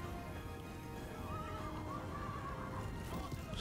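A horse neighs and whinnies among cavalry in Total War: Three Kingdoms, with a drawn-out call over a dense, steady battle din.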